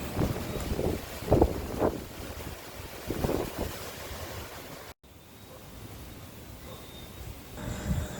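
Gusts of wind from Tropical Storm Fiona buffet an outdoor pool area at night, with rumbling, blustery surges that rise and fade in uneven bursts over a low, constant roar.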